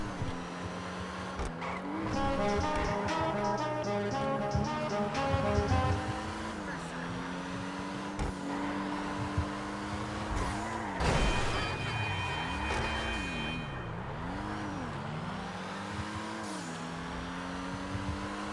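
A car engine in Grand Theft Auto, similar to the Pariah sports car, revs repeatedly with rising and falling pitch, swelling and dropping over a steady game soundscape, with a voice talking at times.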